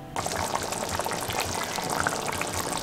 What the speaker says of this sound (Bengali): দেখো গরম জলটা আমি এর মধ্যে দিয়ে দিচ্ছি, তাহলে মাংসটা সেদ্ধ হবে।